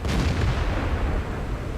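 A tank cannon fires in a video game, a single loud booming shot followed by a dense rumbling decay that holds strong through the whole burst.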